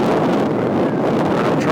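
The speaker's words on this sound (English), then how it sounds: "Could you tell that the wind picked up?" Strong wind roars steadily outdoors at a disc golf field, buffeting the microphone with constant low rumbling gusts and no talk.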